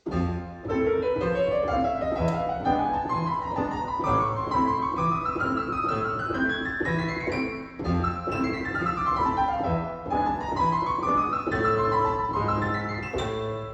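Rapid piano runs with both hands from an arrangement of a song from Chainsaw Man, notes rising and falling in quick continuous cascades over a steady bass, loud and close.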